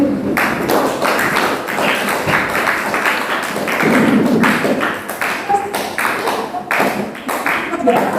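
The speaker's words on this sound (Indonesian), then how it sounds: "Untuk sekali lagi tepuk tangannya" Clapping rises at a debate event as the crowd is asked for another round of applause. Uneven claps and taps mix with thuds, and people keep talking over them the whole time.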